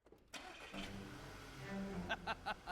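A car engine cranks and catches, then idles and revs with a few short bursts near the end, fairly close, with faint voices in the background.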